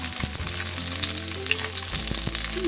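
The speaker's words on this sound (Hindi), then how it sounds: "तो चलिए पहले इसको अच्छे तरीके से फ्राई होने देते हैं" Mashed eggplant bharta with spices frying in a pan, a dense close sizzle with a few soft stirring knocks and a low steady hum underneath, no voices.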